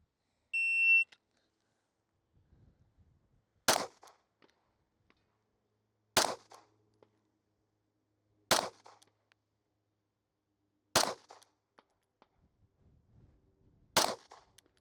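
Five widely spaced handgun shots fired one at a time during a police shooting qualification at 15 yards, each a sharp crack with a short tail, separated by quiet pauses of two to three seconds, after a brief electronic timer beep.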